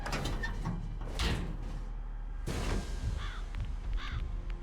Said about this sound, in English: The crow sound.